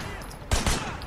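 Gunfire from the video game Sleeping Dogs, set in Hong Kong: two quick, sharp shots close together, punchy and near, with a faint murmur of game ambience around them.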